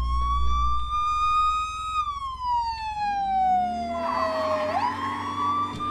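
A wailing police car siren in the video game Brick Rigs sweeps slowly down in pitch, then an engine rumble rises underneath as the car starts moving; no one speaks.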